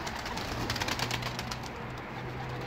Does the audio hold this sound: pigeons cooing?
yes